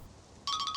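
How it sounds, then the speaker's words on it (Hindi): A phone ringtone starts abruptly partway through, a bright repeating electronic trill that is close and clear after a moment of quiet. "अरे फोन आ रहा है।"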